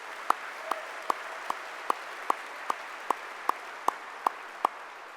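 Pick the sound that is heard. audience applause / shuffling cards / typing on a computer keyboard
audience applause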